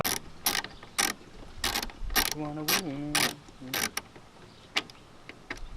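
A ratchet wrench removing 8mm bolts from the rear end of a Honda FD2 during a JDM rear conversion, loud bursts of fast clicking repeated several times, with a creaky squeal midway and pauses between turns.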